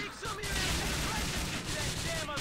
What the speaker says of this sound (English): There's a lot of gunfire going down